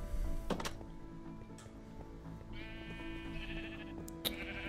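Blocky sheep in Minecraft bleat in a few short, reedy calls, the loudest near the start and another cluster in the middle, heard alone over quiet in-game ambience.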